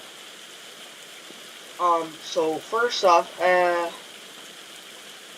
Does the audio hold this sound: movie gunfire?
no